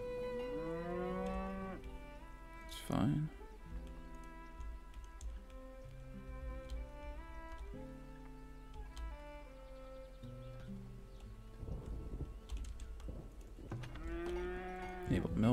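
Cows mooing in the farming and castle-building game Farthest Frontier, several long drawn-out calls over a steady game music bed, with a brief spoken remark.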